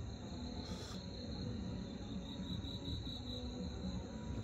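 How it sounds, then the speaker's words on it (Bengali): Crickets chirp at night beside a village pond, a steady high trill running throughout, with a faint low hum of distant road traffic underneath. "ঝিঝির শব্দ পাওয়া যাচ্ছে,"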